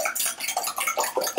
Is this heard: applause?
no